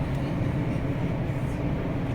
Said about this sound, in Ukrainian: Поїзд їде, гілки чіпляє, зараз будуть.